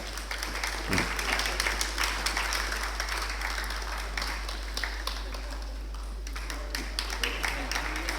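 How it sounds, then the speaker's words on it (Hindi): Sustained applause from an audience at a light and sound programme fills the whole stretch, dense steady clapping with a low constant hum underneath. "ज़ोरदार तालियों से आप इस्तकबाल करें।"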